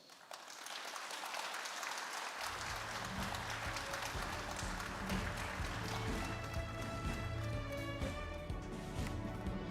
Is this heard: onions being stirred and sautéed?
no